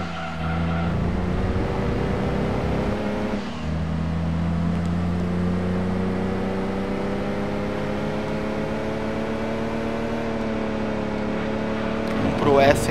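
Engine of a Fiat 500 held at its top speed in the Gran Turismo 2 racing game, a steady, loud droning hum with slowly rising pitch that runs continuously throughout, with a brief dip near the start.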